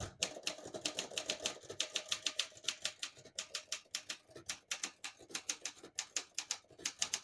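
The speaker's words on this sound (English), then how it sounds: "I'll type a sentence in red on the next line" Steady keystrokes on a 1963 Olympia SM5 portable manual typewriter typing a sentence in red, crisp close clacks in quick bursts with short pauses between words, and no voices.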